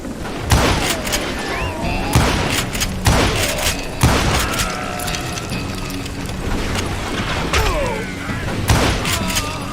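Gunfire in the Western shooter Call of Juarez: Gunslinger: loud, sharp shots ring out at irregular intervals, each with a short echoing tail, over a steady background of game ambience.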